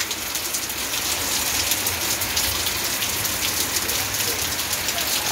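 Steady rain pours down in Joaquim Gomes, in the forest zone of Alagoas, Brazil: a dense, even hiss of drops hitting surfaces, continuous and close, with no voices.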